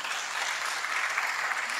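Brief, steady applause from a group, a dense wash of clapping at even loudness with no voices over it.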